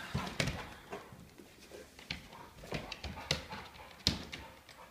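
A dog whimpers and yips in short, restless bursts, fairly close, amid rustling and scattered knocks.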